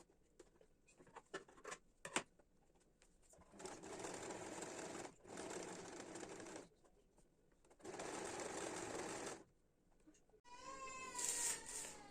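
A home sewing machine runs in three long stitching bursts on a headscarf, with a broken overlocker meaning a plain seam is used instead; soft handling clicks come between runs and a cat meows near the end.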